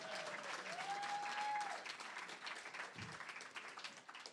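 Audience applause at a drag comedy show, a burst of clapping from a crowd that swells, then thins into scattered claps and fades, with a brief whoop in the middle.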